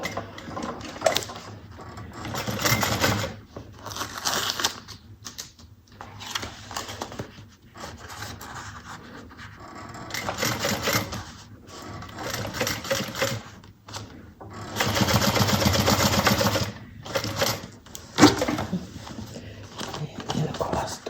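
A sewing machine stitches the side pocket of a fabric bucket bag in short bursts of rapid mechanical chatter, stopping and restarting between runs, with no talking.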